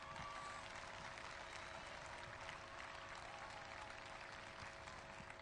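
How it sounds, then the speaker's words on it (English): A faint, distant round of applause for the APIA Leichhardt Tigers at a football grand final presentation, quiet, even clapping spread evenly across the moment. "if I could please have a round of applause for the APIA Leichhardt Tigers, this season's premiers and today's runners-up"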